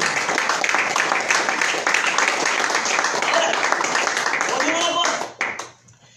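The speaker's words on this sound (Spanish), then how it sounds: "Denle un aplauso al Señor." A church congregation applauds during a sermon, with loud, dense clapping from many hands that holds steady, then thins and fades out near the end.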